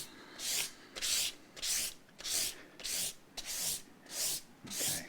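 Guitar frets on an Ibanez MIJ RG550 Genesis are sanded with 400 grit paper in eight even, rhythmic scratchy strokes, close and clear with short pauses between passes.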